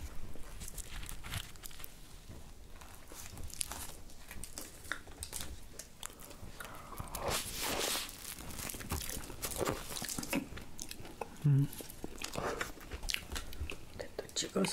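Castella cake dipped in cream sauce being eaten up close, with continuous moist biting and chewing sounds and crunchy, crackling mouth noises throughout.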